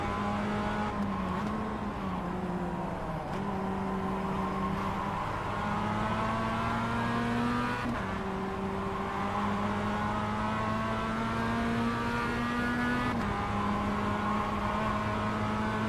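Mazda race car engine in the iRacing simulator at the St. Petersburg street circuit, a steady buzzing drone that rises in pitch through the gears, drops sharply at shifts and climbs again, loud and continuous with no talk.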